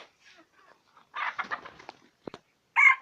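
Young Leghorn hens and chicks in a poultry yard give soft scattered clucks and chirps, with a louder burst of close clucking near the middle and another loud call at the end.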